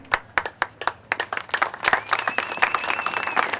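Audience applause at an event to save the Albuquerque Bosque, a crowd clapping with sharp separate claps at first, building into dense steady applause with a faint whistle-like tone running through it.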